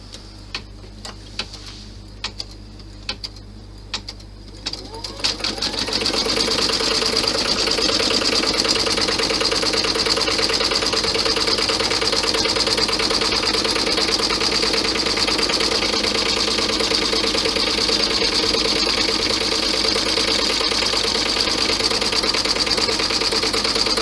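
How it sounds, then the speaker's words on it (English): A sewing machine stitches a pocket guide down on a vinyl bag, beginning with a few light ticks and then settling into a steady, fast, even whirring run that continues alone and close. "we're going to stitch the pocket guide down now."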